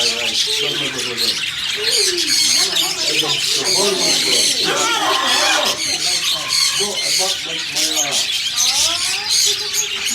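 Caged birds squawking and chirping inside a bird supply shop, a dense, continuous chorus of loud calls close by, with people talking underneath.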